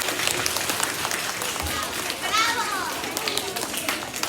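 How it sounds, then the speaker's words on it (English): Applause from an audience of second- and third-grade children at a school motivational assembly, steady clapping mixed with excited children's voices and high squeals throughout. "Let's give him a round of applause."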